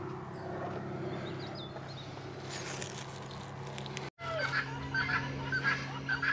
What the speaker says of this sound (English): Geese and ducks and goodness knows what else.